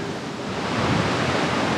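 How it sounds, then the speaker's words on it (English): Strong wind gusting across an open bush walking track above a steep valley, a steady broad roaring rush buffeting the microphone close up for the whole moment, with no voices. "Very windy day again."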